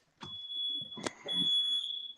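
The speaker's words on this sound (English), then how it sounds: "Why is that alarm going off?" A smoke alarm sounding in a home kitchen, piercing high-pitched beeps with a sharp clatter in between, close and fairly loud, no voices.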